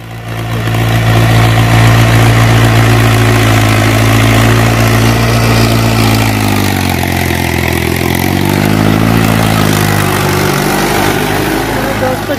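A tractor engine runs steadily at close range in a village farm setting, its low throbbing drone continuous throughout and dipping slightly in pitch midway, with a voice speaking over it.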